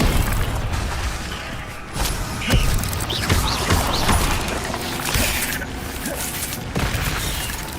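Incendio fire spell in Hogwarts Legacy, a run of booming blasts and crackling bursts over a dense rumbling roar, several sharp hits spread across the stretch, loud and up close.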